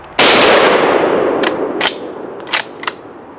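A Spanish FR-7 bolt-action rifle fires one loud close shot that rings out and decays, followed by several sharp metallic clanks and pings from steel targets.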